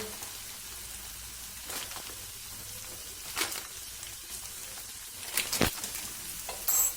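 Beef heart pieces fry softly in a pan as cumin, black pepper and chili flakes go in, a steady low sizzle with a few brief clinks of stirring, fairly quiet and with no talk.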